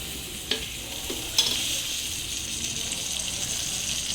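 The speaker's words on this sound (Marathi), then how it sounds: "आता तेल मस्त एक पळीवर तेल टाकायचं असं." A small ladle of oil pours into a hot pan. Two quick clinks come first, then a soft, even sizzle hisses steadily and fairly quietly.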